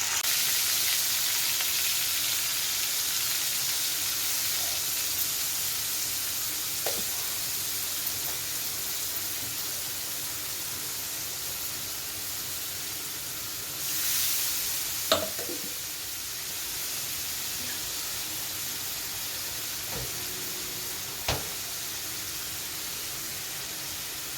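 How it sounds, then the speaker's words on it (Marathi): Ginger, garlic and tomato puree fry in oil for homemade butter chicken. A soft, continuous sizzle and hiss runs throughout, broken by a few faint clinks and scrapes of stirring. "ह्याच्यात आपण टोमॅटो प्युरी फ्राय करून घेऊ"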